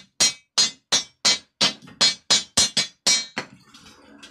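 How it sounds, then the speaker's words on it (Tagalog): Rusty metal on a DIY welding machine built from microwave oven transformers is struck by a hammer about ten times in a quick, fairly even rhythm, each blow a sharp, loud, ringing clank close by, trailing off into a faint rattle. "Pukpukin muna natin mga DIY para matanggal yung kalawang."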